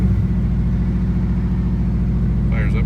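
A 2007 Subaru STi rally car engine runs loud and close, a steady idle rumble that holds throughout after firing up.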